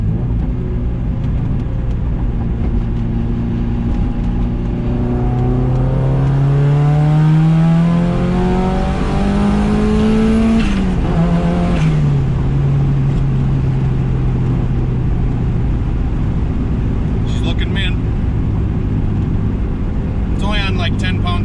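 Turbocharged Mazda Miata running about 10 psi of boost pulls hard in third gear, engine note climbing steadily in pitch to a peak around mid-clip, then shifting and settling into a lower drone with road rumble.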